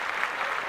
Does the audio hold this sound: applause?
yes